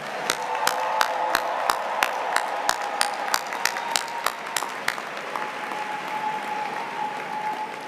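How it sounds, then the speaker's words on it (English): Commencement audience applauding graduates at the PGCC 57th Commencement Exercises in 2016, scattered sharp individual claps ringing out over a continuous crowd applause bed that thins toward the end, with a faint tone lingering underneath. "why don't we give all of those graduates who couldn't be here tonight a rousing round of applause?"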